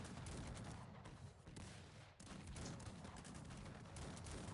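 Massed gunfire and cannon volleys in the strategy video game Cossacks 3 crackle almost continuously as dense overlapping shots, with a brief lull near the middle.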